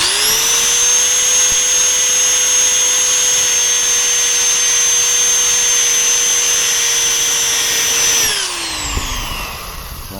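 A power drill runs steadily under load with a 3/8 drill bit, boring a hole in a paddle-drive kayak propeller, a loud continuous high whine holding for about eight seconds before spinning down.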